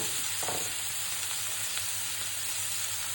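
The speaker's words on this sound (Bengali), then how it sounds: "শুটকি, রসুন, পেঁয়াজ হালকা একটু ভেজে নিব।" Dried loitta fish (Bombay duck shutki) fries lightly with garlic and onion in a pan, giving a steady close sizzle and hiss throughout with a few soft stirring taps and no talking.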